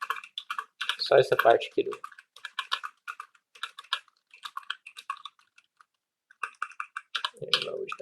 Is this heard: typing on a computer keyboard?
yes